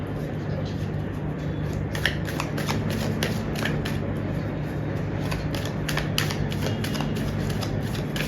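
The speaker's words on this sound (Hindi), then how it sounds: "Let's take one more card." Tarot cards are shuffled in a quick, steady riffling patter that runs throughout, close and moderately soft over a low background hum.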